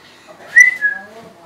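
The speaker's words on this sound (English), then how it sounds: "Can you whistle like that, please?" A single short human whistle, a bright rising and falling tone lasting under a second, heard alone and fairly close inside an old train depot at night.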